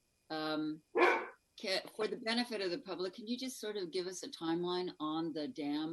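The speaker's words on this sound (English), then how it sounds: "Sorry about the dog." A dog barks from a home during a remote county board meeting, a sharp bark or two near the start, then someone speaks over the line.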